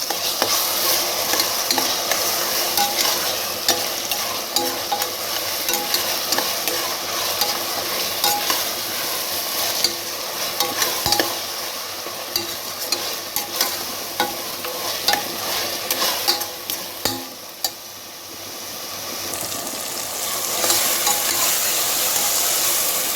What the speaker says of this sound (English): Keep on stirring, else it will get stick to the bottom.